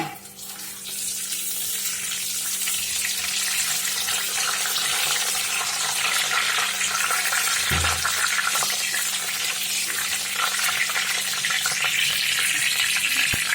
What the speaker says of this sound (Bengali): শুকনো লঙ্কা দিয়ে দিচ্ছি তারপর দিয়ে দিচ্ছি গোটা জিরে একটু গোটা জিরে দিয়ে দিচ্ছি দুটো তেজপাতা দিয়ে দিল